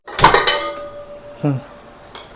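A large, heavy metal cooking pot clanks down onto a stove with a ringing clatter, followed a moment later by a softer knock and a brief clink.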